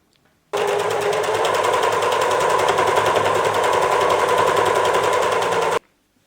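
A sewing machine runs steadily and loudly in one continuous burst of fast, rattling stitches along the curved back-and-front seam of a pair of mini shorts, starting and stopping abruptly.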